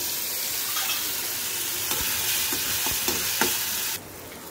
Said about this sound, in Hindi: अब हम ये किसा हुआ सब डाल देंगे तेल में